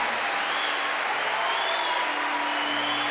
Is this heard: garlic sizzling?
no